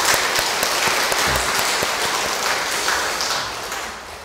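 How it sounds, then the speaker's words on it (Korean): A Catholic parish congregation at Sunday Mass claps together in a dense, even wash of applause that holds steady and tapers slightly at the end, with no speech over it. "박수 쳐주세요. 축하드립니다."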